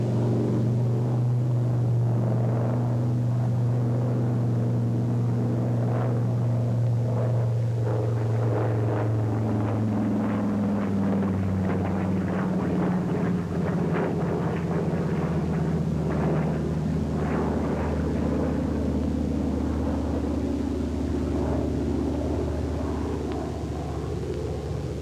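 Brewster F2A Buccaneer fighter plane, a Navy aircraft, roaring through an Immelmann turn, its engine drone loud and continuous while the pitch slides downward as it climbs and rolls over.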